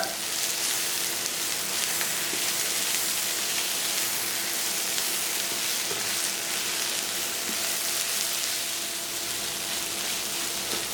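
Chicken liver frying in a pan with salt, coriander powder and chili powder while being stirred, a steady loud sizzle throughout with faint scraping.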